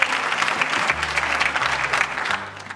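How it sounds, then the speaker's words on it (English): Crowd at a youth outreach imbizo giving a big round of applause for a speaker, a burst of dense clapping with a low hum underneath, fading as it ends. "Let's give Mr. Chetty a big round of applause."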